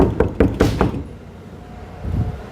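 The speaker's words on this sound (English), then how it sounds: "knock on the door." Four quick, sharp knocks on a door at the back of a house, evenly spaced and close, followed by quiet and a faint low rustle.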